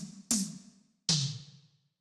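Two sharp, pitched tom drum hits about three-quarters of a second apart, each with a bright attack and a ringing decay, isolated against silence in an electronic production.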